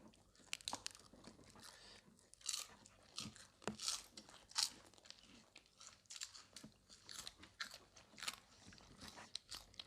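Close crunching and biting on crispy pork rinds, irregular sharp crackly bites and chewing bursts spread across the stretch, fairly quiet with no talking.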